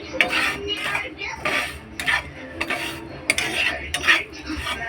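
A spoon scrapes and clinks against a bowl while spice powder and salt are mixed, giving repeated bursts of metallic clatter in an irregular stirring rhythm.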